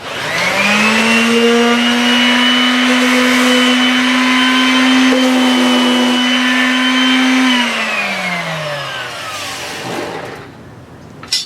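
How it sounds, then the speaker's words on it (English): Hand-held power sander working the wheel wells of a longboard skateboard deck, a steady loud motor whine held for several seconds before spinning down to a stop. "Finish up with the hand sander."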